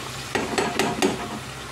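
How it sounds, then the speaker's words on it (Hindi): Spice paste for chicken karahi fries in oil in a pan, giving a soft sizzle with a few quick stirring scrapes, close and fairly quiet, with no talking. "इसको अभी हम थोड़ा सा भूनेंगे"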